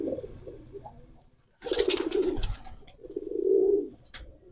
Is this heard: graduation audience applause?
no